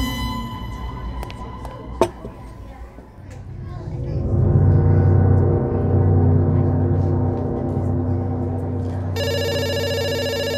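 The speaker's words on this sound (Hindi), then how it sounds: "फोन को घूरना नहीं, फोन उठा के ऑर्डर लेना।" A telephone rings in a pizza shop, its electronic tone repeating steadily over a busy, murmuring room background.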